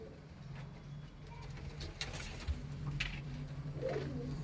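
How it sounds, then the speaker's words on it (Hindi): Panjabi Malwai pigeon, a white-eyed kalchocha, cooing softly in a steady low rhythm amid faint background noise, with a brief louder coo near the middle. "बहुत कौमदार कबूतर है, बिल्कुल सफेद आंखों का है कलचोचा भाई।"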